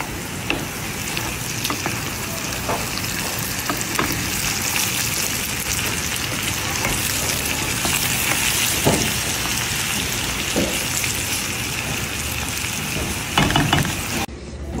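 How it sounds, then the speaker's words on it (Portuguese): Onion and bell pepper sautéing in a hot pan for a New Year's Eve supper, a steady loud sizzle with occasional stirring scrapes throughout, no talking. "agora que chegou a nossa cebola, então agora a gente vai deixar dar uma refogadinha boa"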